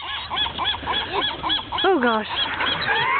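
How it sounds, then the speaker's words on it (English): Mallard ducks and geese honk and call in a busy, close flurry while being fed, one loud descending honk standing out; a person exclaims briefly over the birds. "Those mallards."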